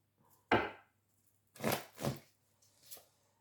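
A deck of tarot cards is cut by hand, giving a sharp riffling slap followed by two softer papery shuffles and a faint final flick, close and quiet with no voices.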